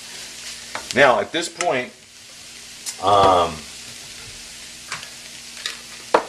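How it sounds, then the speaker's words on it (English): Bacon frying with greens in a pan gives a soft steady sizzle, broken by a few louder stirring bursts while a person talks over it. "So now I'm going to add in the bacon"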